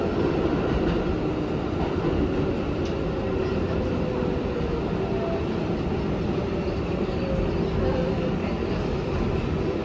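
An NYC subway R142A 6 train runs between stations in Manhattan, a loud, steady rumble and roar of wheels on rails with faint clicks and a thin squeal heard throughout.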